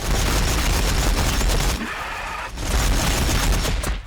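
Ork war bikes fire their guns in a Warhammer 40,000 battle against Tyranids, a loud, dense, rapid barrage that rattles on continuously, dipping briefly before roaring back at full volume.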